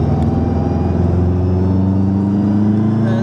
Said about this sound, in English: I'm just going to demonstrate the turbo lag up this hill.